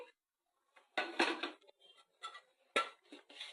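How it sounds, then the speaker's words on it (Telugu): A pan set down on a home kitchen stove gives a few short metallic clatters and clunks with pauses between them, close by and fairly quiet, with no talking. "ప్యాన్ పొయ్యి మీద పెట్టానండి."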